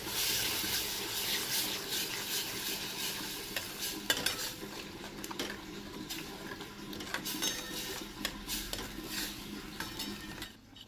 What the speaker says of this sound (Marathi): आता यामध्ये आपण जी पालकची प्युरी केलेली होती ती घालून घेऊया